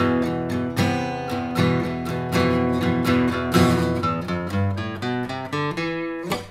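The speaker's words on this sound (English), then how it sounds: "we get a really dissonant, Phrygian sounding riff" A guitar plays a dense, dissonant Phrygian riff of rapid picked notes and ringing chords, loud and close with no talking.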